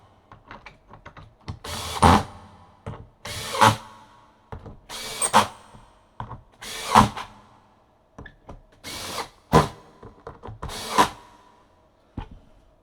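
A power drill tightens the lugs on a 1970 vintage Ludwig green sparkle bass drum, sounding as a series of short whirring bursts separated by clicks and pauses, close and fairly loud.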